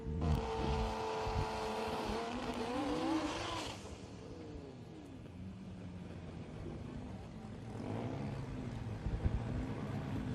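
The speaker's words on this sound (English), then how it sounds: "the first ever side-by-side 7-second Lamborghini battle" Lamborghini cars launch side by side in a drag race, their engines roaring loudly and rising in pitch before fading, then a second surge of engine noise builds at the end.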